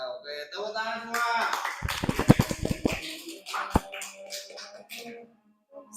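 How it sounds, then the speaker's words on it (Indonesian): A short burst of roughly a dozen hand claps from a small audience at a junior high school presentation, lasting about a second between stretches of nearby talking. "Oke, tepuk tangan semua."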